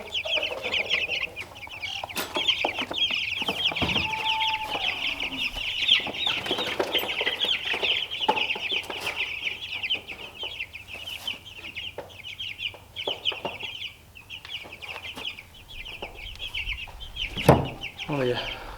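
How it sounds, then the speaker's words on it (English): Chicks and chickens cluck and peep continuously at close range on a farm, a busy chorus of chirps and clucks with occasional louder squawks over the whole stretch. "the chicks will come out of the crate"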